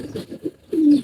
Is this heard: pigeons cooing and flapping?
yes